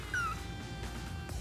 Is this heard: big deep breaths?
no